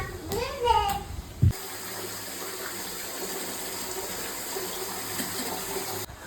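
A household tap runs with slightly muddy water, likely because the overhead tank above was being cleaned; a steady close gush follows a few brief clunks and handling noises, with no talk over the flow.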